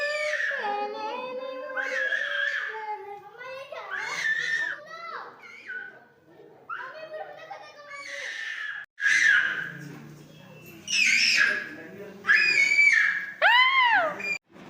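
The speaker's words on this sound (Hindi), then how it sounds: "इस तरीके से चिल्लाने लग गए" A toddler shouts and screams in loud, repeated high-pitched bursts, sometimes with a whimpering, crying quality, as other voices and adult chatter fill the pauses between outbursts.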